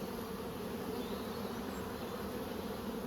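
Honey bees buzzing around nucleus hives in an apiary at Coramba, a dense steady drone with no breaks or talking.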